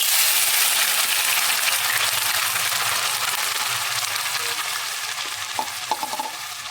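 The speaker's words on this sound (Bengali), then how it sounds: "পাঁচটা লবঙ্গ আর দু টুকরো দারচিনি আমি ফোড়নে দিয়ে দেবো ফোড়নটা ফ্রাই হয়ে যখন সুন্দর গন্ধ বেরাচ্ছে" Cloves, cinnamon and cardamom sizzle steadily in hot oil as a tempering for chicken tikka masala, a loud continuous frying hiss with stirring and a few light clinks of a utensil near the end.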